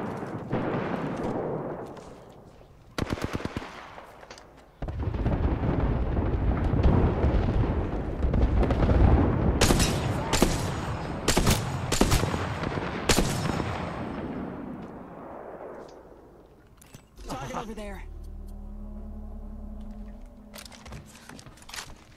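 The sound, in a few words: Bangalore's airstrike artillery barrage in the video game Apex Legends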